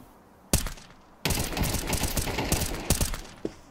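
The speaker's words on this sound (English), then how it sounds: "Oh, that's a sniper." Gunfire in the video game Counter Strike 2 has a sniper rifle crack out sharply, with other shots and rapid in-game impacts and clatter following in quick bursts.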